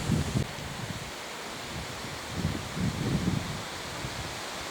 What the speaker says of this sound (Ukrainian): дуже холодний північний вітер